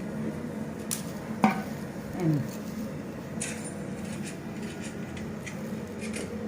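Pabda fish fry in a pan with a soft, steady sizzle, broken by a sharp utensil clink and light pan clatter, while people talk nearby.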